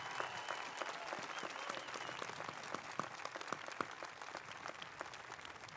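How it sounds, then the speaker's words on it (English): Steady applause at a high school commencement ceremony, with distinct individual claps in a large hall, heard fairly faint and distant. "So let's one more round of applause for Colton and Justice"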